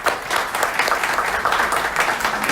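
A parliament audience gives a speaker a big round of applause, a dense, loud, continuous clapping that fills the room without letting up.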